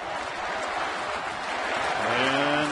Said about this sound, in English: cheers of "Let's Go Bucks" encircling PNC Park